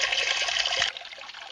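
Water rushes through a gold sluice box fitted with riffles, a close, steady splashing flow that suddenly drops to a softer trickle near the end.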